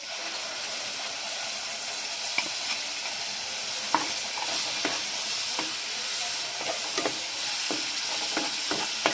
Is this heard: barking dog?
no